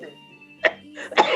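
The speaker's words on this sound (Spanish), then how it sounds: "me haces toser" A short throat-clearing cough rings out on a talent show stage, followed by a second rougher burst of coughing. Brief, close and loud, over a faint sustained musical tone.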